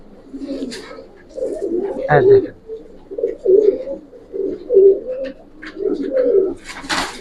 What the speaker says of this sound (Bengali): কালো মিচমিচা পায়রা দেখেন কবুতর ঠোঁটটা দেখেন